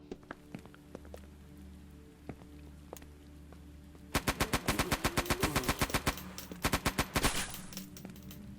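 Machine gun fire in the horror shooter Eternal Evil, a few scattered single shots followed by long rapid bursts of sharp, loud reports, close and dominant, with no talking over them.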